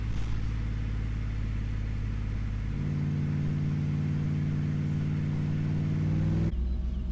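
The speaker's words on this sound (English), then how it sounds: "let's just listen to the exhaust note and enjoy the sound" A Triumph Stag V8 runs steadily with a low exhaust rumble, which deepens and grows fuller midway as the revs change, then drops to an idle near the end.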